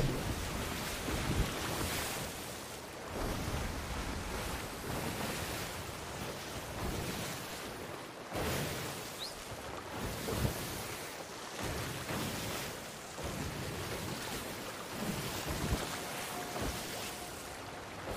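A steady wash of wind and ocean waves surrounds a sailing ship in the video game Sea of Thieves, with rolling surges throughout and no talk.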